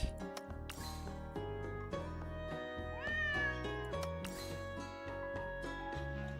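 Cats meowing in a video game: a run of repeated, overlapping meows, some drawn out and rising in pitch, loud and close, with no talking over them.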